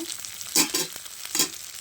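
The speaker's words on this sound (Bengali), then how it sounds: "তো দেখুন মশলাটা আমার ভাজা ভাজা হয়ে গেছে" Spice masala fries in a pan for a fish and cauliflower dish, a low background sizzle broken by two bursts of louder crackling as the mixture is stirred.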